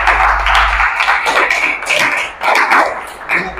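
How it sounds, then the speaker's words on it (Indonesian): Students in a classroom clap for a group, a short burst of uneven applause from a small group of people, close and fairly loud, with chatter mixed in. "kalau sama, tepuk tangan buat kelompok"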